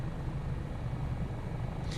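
An AS365 N2 Dauphin helicopter of 658 Squadron flies past, a steady low rotor drone that stays constant throughout without any talking.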